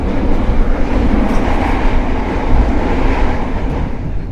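The Sancaka Utara passenger train running, heard from inside a carriage as a loud, steady rumble with a continuous low roar of wheels on rail and no talk.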